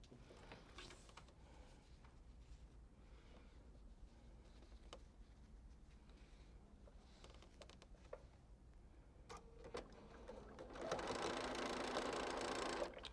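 Sewing machine stitching the seams of a quilt block, a steady fast mechanical patter at close range that runs continuously and grows louder and busier near the end, with no talking.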